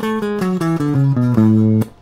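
Eight-note major scale played on a clear, sustained instrument, descending step by step in even notes with the last note held longest, alone with no voices.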